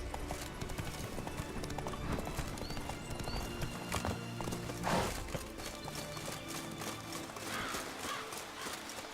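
Geralt's horse Roach trots along in The Witcher 3: Blood and Wine, with steady hoof clip-clops on the ground, a brief whinny, and ambient game sounds layered throughout.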